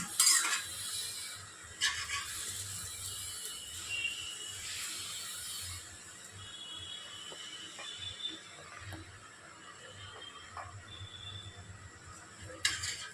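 Sugar melting in oil in a pan is stirred slowly, giving faint intermittent scrapes and clinks of a utensil against metal over a soft, low sizzle in a quiet kitchen.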